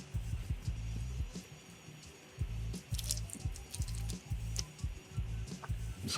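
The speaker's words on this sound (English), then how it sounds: "Now we're just gonna ladle the soup into the bowl." Soup is ladled into a bowl of cooked noodles for a Chinese vegetable soup, producing soft repeated pours, drips and splashes in quiet, irregular bursts close by.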